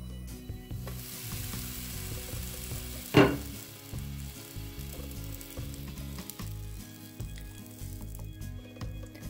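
Food frying in a covered pan, a steady close sizzle and crackle held throughout, with one sharp brief pop or clatter near the start and no talking.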